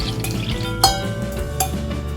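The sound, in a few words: egg and dashi mixture strained through a sieve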